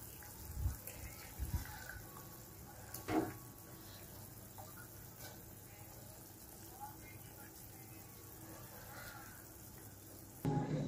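Eggs simmer in a pan of egg curry with a quiet bubbling sizzle, broken by a few soft knocks and stirring clatters, with a louder clatter near the end.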